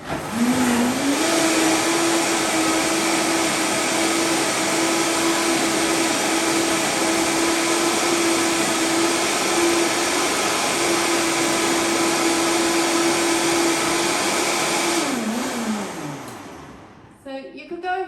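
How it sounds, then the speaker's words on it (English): A countertop blender whirs loudly and steadily as it blends oats with water into oat milk, spinning up at the start and holding a constant high whine for about fifteen seconds before winding down and stopping. "we'll pop this on the blender and blend it up for less than a minute"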